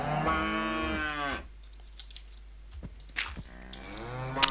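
A Minecraft cow gives a long, clear moo near the listener, followed by quiet clicks and a second, shorter low moo toward the end.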